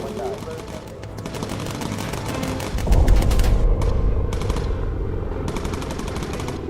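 Rapid machine-gun fire in the bomber video game Bomber Crew, dense continuous rattling bursts with brief pauses between them over a low rumbling background, steady and fairly loud.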